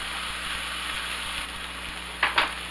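A cheeseburger slider patty sizzles steadily on a hot griddle, a constant close hiss of frying with a couple of brief scraping clicks near the end.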